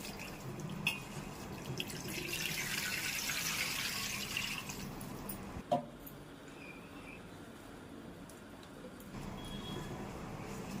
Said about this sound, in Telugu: నీళ్ళు వేసుకోవాలి.